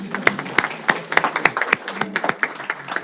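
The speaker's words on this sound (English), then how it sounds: "Give them a round of applause." A crowd at a board of education meeting claps together, a dense patter of hands with sharp individual claps standing out, sustained and lively throughout.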